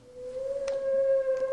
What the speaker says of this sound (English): Whale songs are so underground.